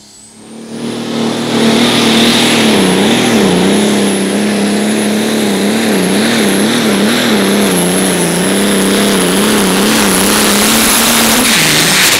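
A loud, heavy turbocharged diesel truck engine roars under strain at a light super stock truck pull in Wisner, Nebraska, its pitch wavering and a high whine of spooling turbos riding steadily above the drone.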